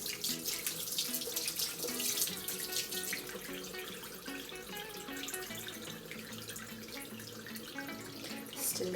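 Tap water runs steadily into a sink, splashing as soap is rinsed out of makeup brushes, soft and continuous for the whole stretch.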